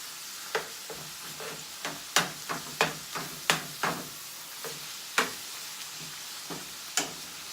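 Ground meat fries in a pan as it is repeatedly pushed around, soft sizzling broken by a steady series of scraping utensil clicks, close but quiet, with no voices.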